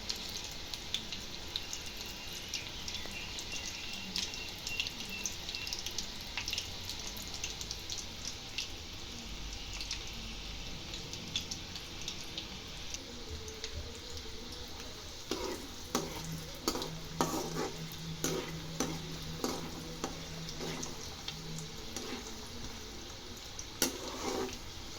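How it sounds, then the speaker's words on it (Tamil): Chickpeas frying in hot oil for chana chilli: a continuous close sizzle with bursts of spoon stirring and scraping against the pan, growing busier toward the end, with no voices. "எண்ணெய் சூடான பிறகு இப்போ இதை சேர்த்துக்கலாம்."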